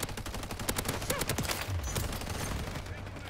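Rapid bursts of LMG machine gun fire in Modern Warfare III, dense rattling shots in quick succession with some game effects mixed in.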